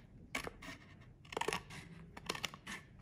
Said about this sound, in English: for the rim, you're going to trim it with a pair of scissors